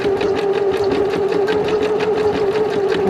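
A domestic sewing machine running an overcast zigzag stitch along a fabric edge, with a fast steady mechanical whir and rapid rhythmic needle clatter throughout at close range.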